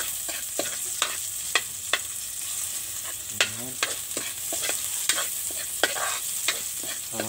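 Onions are stirred into sisig in a pan, a steady close sizzle broken by regular sharp scrapes and knocks of a spatula roughly every half second, with no talking.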